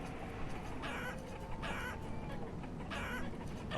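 Chickens clucking in the city-building video game Banished, a few bursts of clucking calls over a steady low background ambience, no voices.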